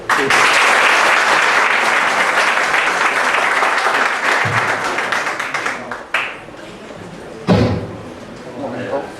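Audience at a Valencia falla gathering applauds Vicente García, a dense burst of clapping that gradually thins and fades, followed by a couple of sharp knocks and a voice speaking.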